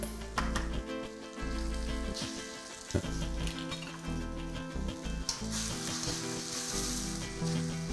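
Egg sizzles and fries in a hot pan for fried rice with chicken, a steady crackling hiss broken by a few clinks and stirring scrapes of a utensil.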